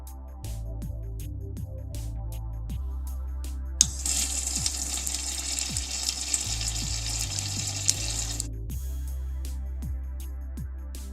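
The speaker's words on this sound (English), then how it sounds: "perform a function check on the valve by activating a flush cycle" A commercial toilet flush valve, freshly fitted with a repair kit, runs a sensor-triggered flush cycle: a steady rush of water surges for about four seconds in the middle, framed by quieter mechanical hum and ticks before and after.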